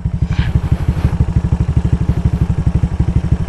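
A motorcycle fitted with a T4S exhaust pipe idles close by with a steady, rapid low putter, the pulses even and unbroken throughout, with no talking.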